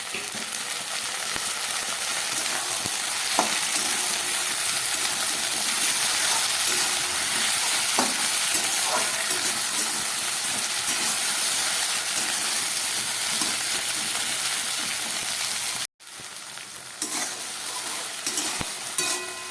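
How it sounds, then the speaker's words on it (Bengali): Sliced okra sizzles and fries in a pan with potato and onion, a steady loud hiss with occasional stirring scrapes, briefly cut off near the end before the sizzle resumes. "আলু পেঁয়াজটা কিছুটা ভাজা হয়ে গেছে এবার কেটে রাখা ঢ্যাঁড়সগুলো আমি এর মধ্যে দিয়ে দিচ্ছি"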